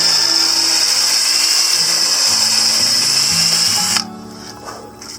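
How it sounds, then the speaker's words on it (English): Power drill driving through wood at an angle while building a corrugated metal fence on wooden posts, a loud steady high whine for about four seconds that cuts off abruptly, leaving faint clicks and low noise. "when you have it just right, then you just drill it on through."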